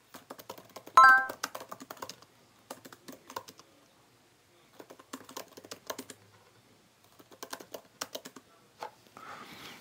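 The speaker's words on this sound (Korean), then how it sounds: "이런 식으로 간단하게 타이핑을 하면 쓰는 데는 문제가 전혀 없습니다" Bursts of keyboard typing on a height-adjustable floor desk, quick clicking keystrokes in several short runs separated by pauses, close up and fairly quiet.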